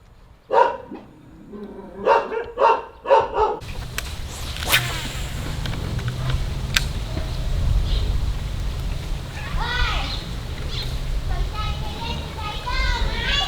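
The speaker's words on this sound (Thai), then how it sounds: "สุดยอดหมาเห่าเกลียวเลย" A dog barks about five times in quick, loud bursts close by, then a steady, noisy outdoor background with people talking takes over.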